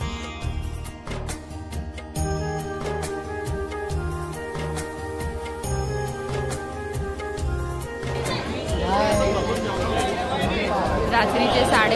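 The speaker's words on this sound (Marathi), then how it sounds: "रात्रीचे 12:30 वाजता गर्दी बघा." A dense crowd chatters at a Ganpati pandal in Mumbai late at night. Many overlapping voices form a loud, steady babble mixed with music, and the din swells toward the end.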